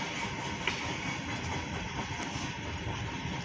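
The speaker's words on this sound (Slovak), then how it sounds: "Už prejde ten vlak." A train rolls past with a continuous rumbling roar and faint rhythmic clatter of wheels on rails, steady and moderately close for several seconds, no voices.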